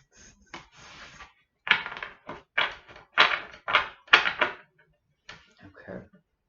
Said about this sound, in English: One more little shuffle and we'll jump into the reading.